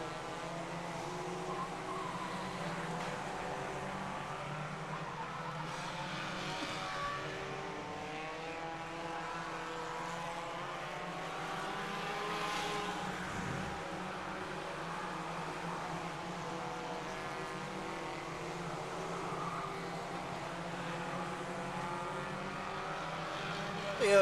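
BriSCA F1 stock cars racing at the 1995 UK Open weekend, a steady loud roar of several engines revving and droning continuously, with a race commentator talking over the noise.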